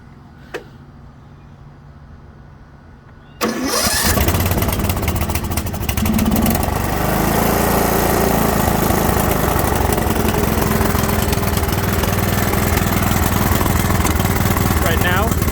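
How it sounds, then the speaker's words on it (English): A Troy-Bilt Pony lawn mower engine on full choke, surging and stuttering, bursts into a loud, close running roar after a few seconds of quiet and keeps going steadily to the end. "show you what it sounds like surging and not surging"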